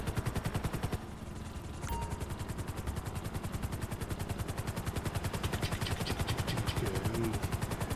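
Helicopter in the video game GTA5 Online: a loud, rapid rotor chop thumping steadily throughout, with a brief dip early on before the beat resumes evenly.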